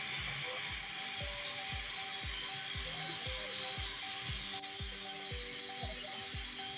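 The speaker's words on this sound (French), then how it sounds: "pour limer les différentes lames de la défricheuse" Rhythmic rasping strokes of a file sharpening the steel blades of a land-clearing machine at a welder's shop, about a dozen evenly spaced pulls over a steady workshop hum, no talk.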